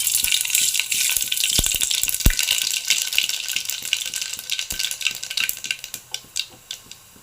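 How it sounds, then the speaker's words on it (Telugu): Spices for tempering hit two spoons of hot oil in a pan with a loud, continuous hissing sizzle, broken by a few sharp pops and clinks near the start and fading gradually toward the end. "పోపు దినుసులు వేసుకున్నాము."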